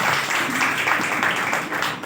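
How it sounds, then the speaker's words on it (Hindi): A church congregation clapping hands together during a Hindi-language Resurrection Day worship service, a dense continuous patter of many palms filling the room, steady and fairly loud throughout. "आइए हम लोग ताली मारेंगे।"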